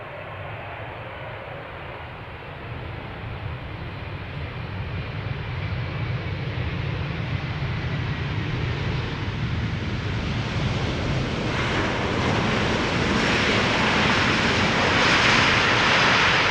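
A Boeing 777-200 jet arriving at Amsterdam Schiphol, its engine roar building steadily and loudly over about sixteen seconds, with a broad rushing whine swelling near the end as it passes close, no voices.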